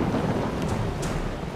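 Thunderstorm in Death Valley: a brief, dense wash of rain and low rumbling thunder, steady and fairly faint, with no talking.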